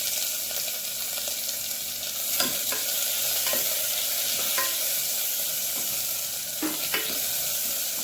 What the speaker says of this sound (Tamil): கொஞ்சம் வதங்கட்டும் வெங்காயம்